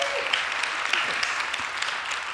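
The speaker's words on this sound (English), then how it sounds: "Just give her another round of applause." Audience at a startup pitch event claps for a presenter, brief steady applause with scattered individual claps and murmuring voices underneath.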